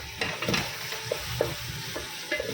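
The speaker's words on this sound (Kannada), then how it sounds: "ಚೆನ್ನಾಗಿ ಇದನ್ನು ಫ್ರೈ ಮಾಡ್ಕೊಂಡು" Onion, tomato, mustard seeds, garlic and cumin sizzle in a pan while a spoon stirs them, with soft frying crackle and a few scraping clinks, close and alone.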